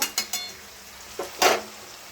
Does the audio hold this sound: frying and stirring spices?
yes